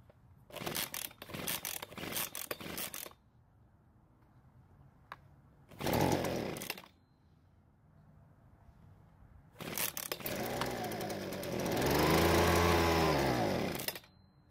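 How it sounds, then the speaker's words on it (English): A freshly cleaned leaf blower being started outdoors on a cold day of about 50 degrees Fahrenheit: a few sharp pull-cord rattles, a brief sputtering catch, then the small engine firing up and running loudly for several seconds. "It's finally time to start this blower and see if all that work we did was even worth it."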